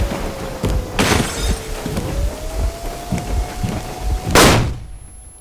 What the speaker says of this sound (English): we have stolen ourselves a train